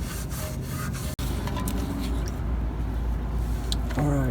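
Scrubbing degreaser over old gasket residue on a Toyota/Lexus oil pan, a continuous gritty rubbing with short strokes and a brief pause, ending with a faint squeak.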